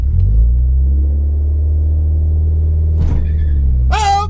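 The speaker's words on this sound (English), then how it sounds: "got wheel spin!" A Mini R55 on a track gives a loud, steady low engine drone that holds, then ends in a short squealing burst near the finish.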